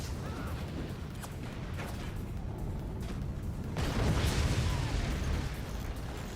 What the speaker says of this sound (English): The double incendiary nuke.